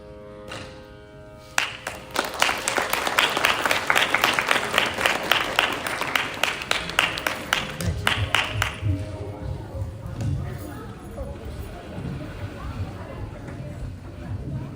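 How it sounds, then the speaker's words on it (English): Audience applause after a Carnatic pallavi vocal performance, a dense burst of clapping from a crowd that swells quickly, holds for several seconds, then thins out and fades as background murmur continues. "Come on, you have to give a huge round of applause."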